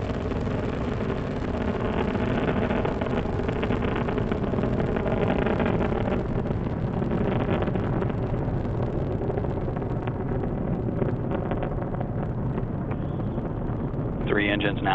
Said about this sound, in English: Three engines now throttling down as Endeavour passes through the area of maximum dynamic pressure on the vehicle in the lower atmosphere.